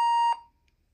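A single sharp electronic tone from a Gemmy Talkbax pug talking toy cuts off abruptly after a third of a second, loud and near, leaving near silence behind it.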